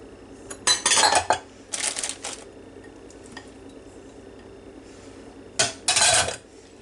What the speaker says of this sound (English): Stir it up just a little bit.